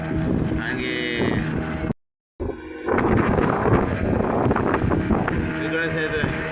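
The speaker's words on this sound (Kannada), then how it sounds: "ಗಾಳಿ ನೀವು ಸಿಕ್ಕಾಪಟ್ಟಿತ್ತು, ದೋಣಿ ಓಡಿಸೋಕ್ಕೂ ಬರ್ತಿಲ್ಲ" Strong wind blows at sea near a fishing dock as boats return in bad weather, a loud continuous buffeting roar broken by a brief dropout, with someone talking over it.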